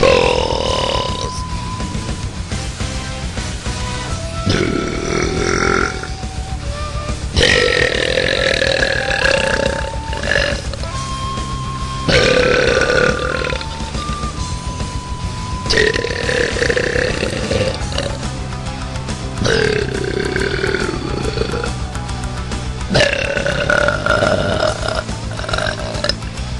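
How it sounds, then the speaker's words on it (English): Loud, chunky belches from a woman come one after another, each a long, throaty, rumbling burp with pitch sweeps and grunting edges, close to the microphone and separated by brief pauses. "I don't know why my belches are chunky."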